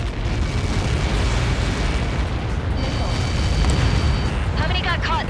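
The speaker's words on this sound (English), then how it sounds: "How many got caught in that explosion?" A massive missile impact explosion in the jet combat video game Ace Combat 7 rumbles as a sustained, loud low roar of blast noise, with faint radio chatter tones near the end.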